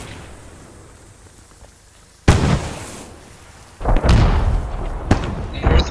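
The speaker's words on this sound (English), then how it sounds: "Throwing a grenade at him." Grenade blasts in the WWII shooter Post Scriptum: a sudden sharp explosion cuts through quiet ambience, then a second, longer booming burst follows a moment later with rumbling debris, fairly close and loud.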